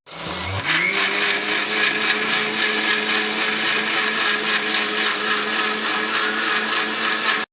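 An electric blender grinding the spiced water ingredients for pani puri starts with a jolt, then runs as a loud, steady whirring roar that holds without a break for several seconds.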